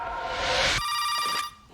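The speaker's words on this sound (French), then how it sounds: "Le téléphone, Pierre!" A telephone rings with an electronic trill, one sustained burst followed by a bright tonal ring that cuts off, loud and close with no talking.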